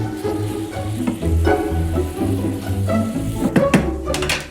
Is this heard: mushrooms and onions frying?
yes